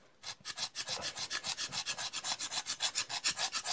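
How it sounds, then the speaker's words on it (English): A knife spine scraped rapidly along a fire starter rod, a steady rhythm of harsh rasping strokes, close and loud, about six strokes per second with no talking. "furiously scrape it like you've never scraped before"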